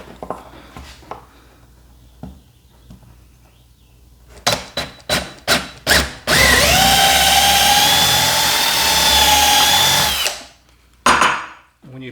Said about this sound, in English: So let's get that drilled out.